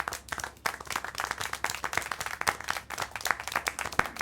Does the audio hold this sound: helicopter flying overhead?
no